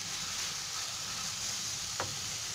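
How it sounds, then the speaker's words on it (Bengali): Chicken, vegetable and egg noodles frying in a pan while being stirred and mixed give a steady, even sizzle throughout, with one short scrape of the utensil near the end. "জাস্ট নেড়ে চেড়ে সব কিছু মিক্স করে নিতে হবে।"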